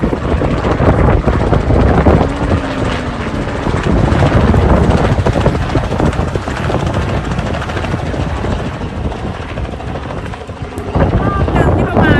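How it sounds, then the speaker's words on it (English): A helicopter's loud, continuous rotor thrum with wind buffeting, steady and near throughout. "helicopter come back."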